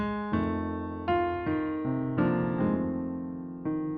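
Solo piano plays a slow 12-bar blues melody with a suspended triad fill, chords struck one after another with ringing sustain, each new chord entering clearly and fading.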